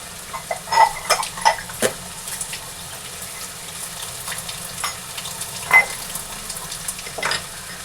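Vegetables being washed with water, heard as irregular splashes, sloshes and clattering of pieces in a vessel, close and moderately loud with short bursts separated by quieter moments.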